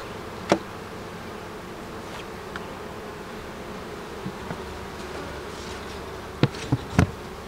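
Steady low buzzing of honeybees at the hive throughout, with a few sharp knocks and taps near the start and end.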